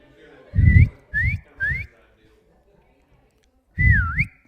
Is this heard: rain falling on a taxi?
no